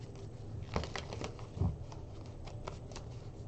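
A deck of tarot cards is shuffled and cut during a reading, giving quiet papery riffles and flicks with two heavier thumps as the cards are squared, close and alone without talk.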